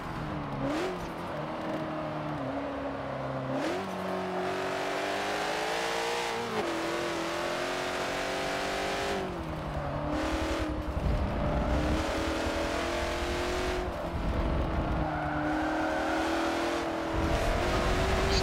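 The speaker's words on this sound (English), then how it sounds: "Straight line speed of that Corvette is amazing. Just look at it go." A Corvette GT race car in Forza Motorsport 7 accelerates hard down a straight, its engine note climbing through repeated upshifts in steady, continuous waves, with no voices over it.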